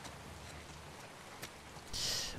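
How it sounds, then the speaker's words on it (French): Rain falling in the video game The Last of Us Part II, a soft, steady patter of drops across a surface with a brief sharper splash near the middle and a brighter wash of noise toward the end. "Oh, il pleut."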